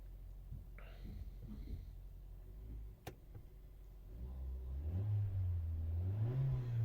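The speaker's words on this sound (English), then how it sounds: "Just getting that wee rev there, and now there's a bit of heat into it." An Abarth car engine ticks over quietly with faint murmuring, then revs up, rising and falling in a loud, close swell.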